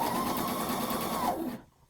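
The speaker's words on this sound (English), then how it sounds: "So I'm just maintaining that same stitch line that I did around my elastic. Back stitch." Sewing machine back stitching a romper seam, a steady rapid mechanical whir running close and loud for about one and a half seconds before stopping abruptly.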